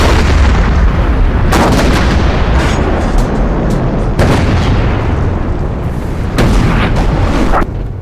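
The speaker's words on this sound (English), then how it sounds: "The heavy shelling has started." Relentless heavy artillery shelling at the Battle of Vimy, a dense continuous roar of booming guns with repeated sharper blasts breaking through, loud and sustained throughout with no voices.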